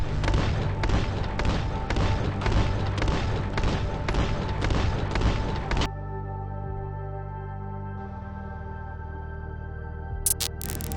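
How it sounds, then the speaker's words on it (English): Dual Hammerfall cannons firing at a shield in Crossout: rapid, regular heavy shots for about six seconds, then a lingering mechanical hum with a few faint clicks. "let's use dual Hammerfall and try to figure out how many shots does it take to take down the shield"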